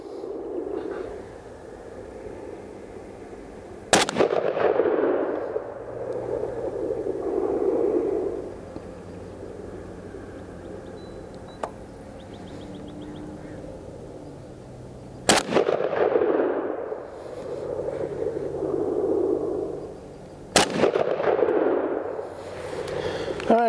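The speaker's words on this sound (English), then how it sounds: "there was my 4 rounds and I did not hit it definitely" A Tavor 7 bullpup rifle chambered in 7.62x51 fires at a target on an outdoor range: four widely spaced, loud, sharp reports, the last two close together, each trailing off in a rolling echo.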